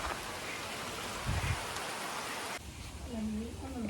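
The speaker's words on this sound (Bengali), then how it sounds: "রোদ উঠছে আবার বৃষ্টিও নামছে" Rain patters in a steady broadband hiss that thins out partway through, with a voice briefly audible near the end.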